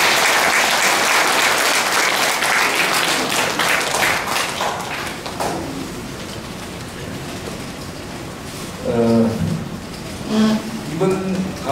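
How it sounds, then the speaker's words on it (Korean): Audience applause at a monthly lecture in Busan, a dense wash of clapping filling the room for several seconds before thinning out, after which a voice and some tonal sounds take over. "박수를 다시 한번 부탁드립니다"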